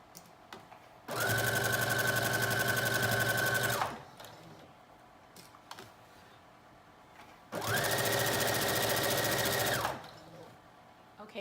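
A sewing machine stitches the back seam of a knit dress in two steady, continuous runs of a few seconds each, separated by a quiet pause.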